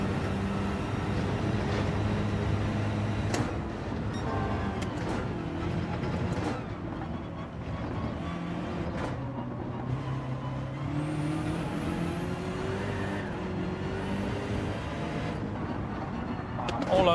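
A BMW race car in Gran Turismo 7 daily races, engine droning continuously near and loud, pitch climbing and dropping through gear changes as it struggles for grip, with other cars' engines mixed in.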